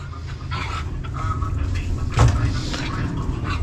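A dog pants in steady, close rhythm over a low background rumble, with a brief knock partway through.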